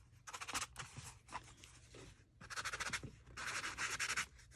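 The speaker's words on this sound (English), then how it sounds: "We'll just use a little sandpaper and wear that down." Sandpaper rubbing a small part by hand, giving bursts of dry, gritty scratching in uneven strokes with brief pauses between them, close and fairly loud, with no talking.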